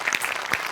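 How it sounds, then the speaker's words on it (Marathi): Brief, dense clapping from a comedy show audience, a short patch of many hands applauding at moderate volume. "एकदा त्यांच्यासाठी टाळ्या वाजल्याच पाहिजेत"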